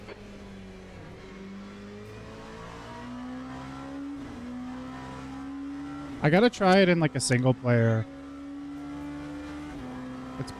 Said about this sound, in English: I think the engine's loud in my headphones.